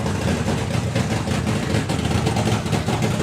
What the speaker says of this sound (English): so he just steps into a nitro funny car